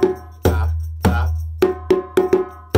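Djembe drum played solo in a West African cuckoo rhythm, with six sharp, resonant hand strikes in an uneven pattern, close and ringing with deep bass tones under each slap.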